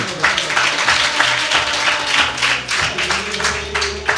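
Congregation at a Friday worship service in Doha, Qatar clapping hands hard and steadily for about four seconds, a dense, loud, continuous patter of many hands, with music playing underneath.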